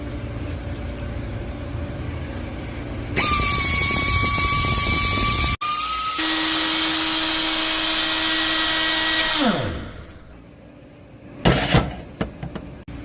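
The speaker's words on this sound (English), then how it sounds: "now I'm going to ream them to the final size." A reamer cuts exhaust valve seats to final size in a 5.2 Magnum cylinder head, a loud steady tool whine with a tonal hum running for several seconds, then winding down and stopping, followed by faint shop clatter.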